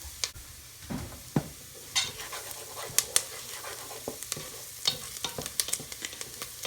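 Onions and celery browning in a pan for a vegan corn chowder, a soft continuous sizzle broken by intermittent scrapes and clinks of a utensil stirring, close and fairly quiet with no talking.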